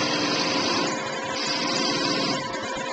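A 1/2 inch skew chisel shaves wood on a spinning lathe while a winged bowl is turned, making a steady, close, hissing scrape with a constant motor whine and no talking.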